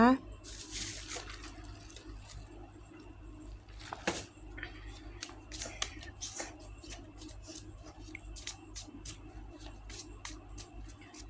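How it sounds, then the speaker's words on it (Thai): Tarot cards being shuffled by hand: a run of light, crisp clicks and soft riffling flutters, close and fairly quiet over a low steady background hum. "ขอสับไพ่สักครู่นะคะ"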